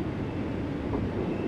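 A Class 484 train from Train Sim World 3 runs along the Island Line, giving a steady, loud low rumble and hum that holds evenly throughout with no voices.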